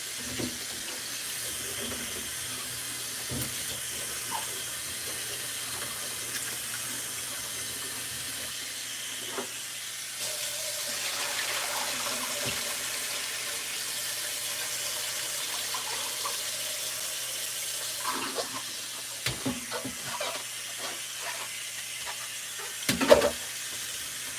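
Cold tap water runs steadily over potatoes being rinsed in a sink, a constant splashing hiss with occasional clunks and handling sounds near the end.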